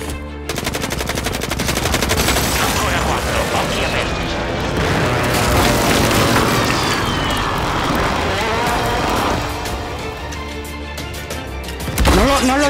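Rapid machine-gun fire and heavy explosions from the video game Warzone roar continuously, dense and loud, with a final sharp blast near the end.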